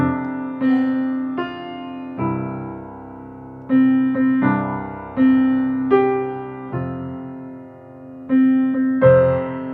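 Piano playing the Happy Birthday melody with chords, sustain pedal letting notes ring and blend; clear phrases with gentle attacks and decays, unaccompanied by voice.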